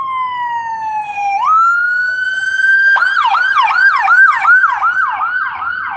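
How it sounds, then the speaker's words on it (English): Ambulance siren passing close and loud, a rising wail sweeping up then switching to a fast repeating yelp that cycles steadily, with no talk over it. "ambulance."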